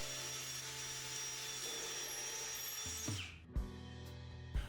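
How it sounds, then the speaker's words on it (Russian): A power drill with an ordinary metal drill bit bores holes into blocks during a radiator replacement in an apartment, a steady close whine running for about three seconds before stopping, followed by a couple of short bumps and another brief burst. "В блоках отверстия можно сверлить при помощи обычного сверла по металлу."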